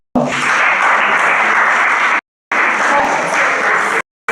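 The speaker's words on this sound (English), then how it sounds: "Give a round of applause." An audience at a college debate event breaks into loud, close applause. The clapping plays in two sustained bursts, each ending in an abrupt cut to silence.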